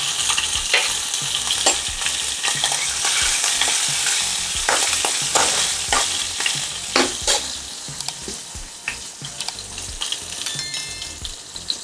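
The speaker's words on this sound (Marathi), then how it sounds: "थोडस जिरं घालते ह्या मिरच्या घालते एकच मिरची ही चिरून घेतलेली बारीक" Cumin seeds and a finely chopped green chilli sizzle in hot oil as a tempering for tomato saar, a close, steady crackling hiss broken by repeated scraping and stirring strokes, with no voices.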